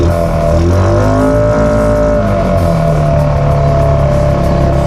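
A Honda Foreman ATV engine held at about quarter throttle while slogging through deep mud, a loud, steady droning growl with shifting pitch, close up, no talking.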